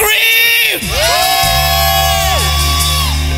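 A crowd at a live gospel rhyme-and-rhythm stage event screams, whoops and cheers loudly, the roar swelling steadily over about three seconds, with individual shouts and a rising sustained yell standing out above the noise.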